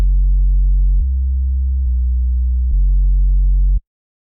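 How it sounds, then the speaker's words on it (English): Clean low sine-wave sub bass from a remix of a song, heard alone as a loud, steady tone that steps through four held pitches before cutting off. "And then just a real nice clean low sine wave."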